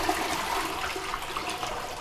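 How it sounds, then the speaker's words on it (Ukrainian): A hotel bathroom toilet in the Carpathian resort town of Yaremche flushes and drains, a soft close gurgle and rush of water running steadily for a couple of seconds. "Зараз ми подивимося, як працює злив тут."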